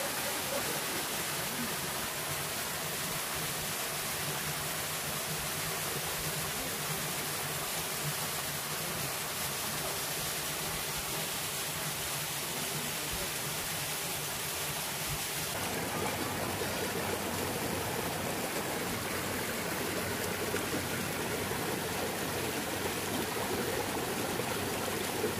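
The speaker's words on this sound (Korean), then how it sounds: "세련 폭포." Continuous rushing water of Seryeom Falls and a mountain stream on Chiaksan, South Korea, a dense, steady roar that stays loud throughout with no voices.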